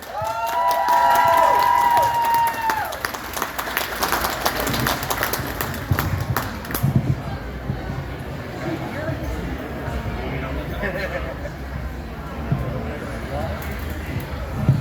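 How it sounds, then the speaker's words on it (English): Audience applause and cheering at a Grand Rapids Comic-Con panel for Zordon and Alpha 5 actors, loudest at the start, then fading into a broad crowd wash with scattered claps and murmuring. "Let's give a big round of applause for David Fielding and Sandy Selner."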